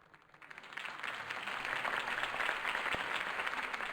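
A crowd in Batman: The Telltale Series bursts into sustained applause and clapping that swells after a quiet start and holds steady, fairly close and full.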